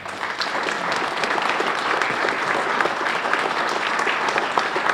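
Warm, sustained applause from a crowd at a legislative breakfast honours a retiring Bombardier manufacturing employee after 30 years. The thick, even clapping holds at a constant loud level for the whole stretch.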